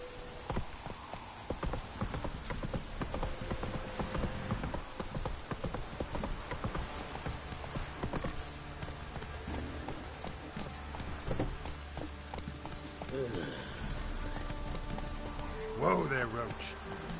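Roach the horse clip-clops steadily through The Witcher 3 as her rider urges her on, hooves repeating in a quick rhythmic patter beneath game music and ambient rain, with a louder burst near the end.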